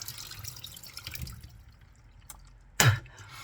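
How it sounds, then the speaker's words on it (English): Spitting out toothpaste and saliva into a sink after brushing teeth in the morning: faint dripping and rustle first, then one short, sharp wet splat near the end, close by. "it's a bit gross in the morning having a spit"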